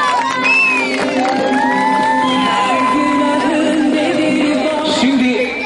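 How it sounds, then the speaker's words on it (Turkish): Lively crowd at an outdoor park opening, with children shouting and whooping over cheering, many overlapping high voices near and loud, and scattered clapping throughout. "Hacımlı Mehmet Parkı hayırlı uğurlu olsun diyerek alkışlar açıyoruz."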